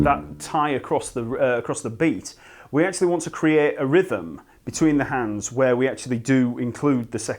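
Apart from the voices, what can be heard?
No distinct noise like a dog, phone or traffic.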